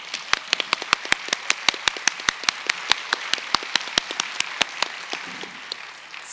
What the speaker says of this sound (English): I think we need to give them one more applause